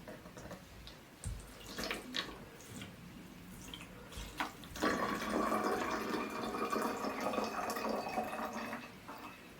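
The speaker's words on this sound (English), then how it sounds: "carefully pour the vinegar into the bottle" Half a cup of vinegar poured carefully into a bottle for a balloon and baking soda science experiment, a steady close liquid pour that swells up midway and runs continuously to the end after a few quieter drips and clinks.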